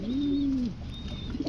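A chila pigeon gives a single close, clear coo, a drawn-out low note that fades, followed by quiet rustling.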